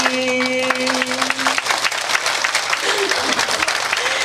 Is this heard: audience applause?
yes